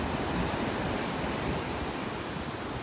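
Gulf Coast surf rolling onto a beach in North Naples, Florida, with rough, churning waves; a steady, loud broadband wash of breaking water with no voices and little variation throughout.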